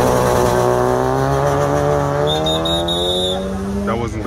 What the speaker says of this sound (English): Everybody racing.